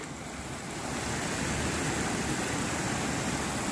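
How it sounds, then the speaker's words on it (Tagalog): Floodwater at a village crossing rushes and pours over in a loud continuous roar, a broad churning wash that swells slightly after the first second and holds steady with no talk. "bumabagsak yung tubig dito sa may Sitio Bagong"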